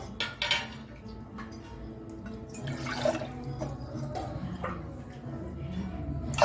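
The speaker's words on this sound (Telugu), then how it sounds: "ఇప్పుడు ఇది వేసుకొని 2 గ్లాసెస్ వాటర్ వేసుకోవాలి." Water poured into a cooking pot on a home stove before boiling egg noodles, with metal clinks of pot and utensils mixed with splashing and dripping, quiet and close, with no talking.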